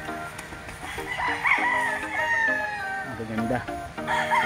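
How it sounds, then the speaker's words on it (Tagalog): Chickens and roosters on a gamefowl farm in Tanay, Rizal, with several birds crowing and clucking over one another at close and middle distance, and a brief spoken remark in the mix. "maraming manok mga ka-Strong Chicken, maraming manok"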